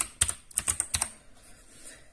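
Typing on a Gametech Black Rider gaming keyboard with blue mechanical switches: a quick burst of about eight crisp, clicky keystrokes up close, then a fading tail into near quiet.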